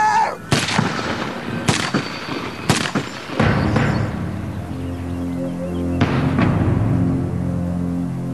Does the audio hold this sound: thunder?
no